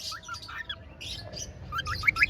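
A male lutino pearl cockatiel gives contact calls: a quick series of bright, close chirps and short whistles in irregular bursts, over a faint low background hum.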